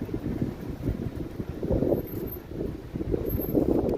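Strong wind blowing outdoors buffets the microphone with a continuous low, rumbling roar that swells in gusts throughout.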